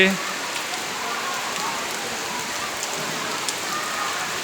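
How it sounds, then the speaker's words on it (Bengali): Heavy rain pours down in a dense, steady hiss with scattered drops pattering on surfaces nearby. "মুসুলধারে বৃষ্টি হচ্ছে"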